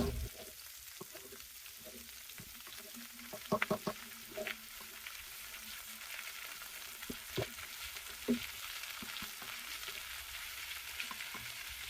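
Chicken frying in masala for a Chettinad chicken gravy is stirred in a pan: a faint, steady sizzle carries throughout, with scattered louder clicks and scrapes from the stirring.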